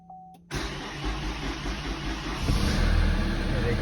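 A Chevrolet Cruze converted from automatic to manual gear cranks and fires after the clutch is pressed. A short electronic tone comes first, then the engine catches abruptly and settles into a loud, rumbling idle close by.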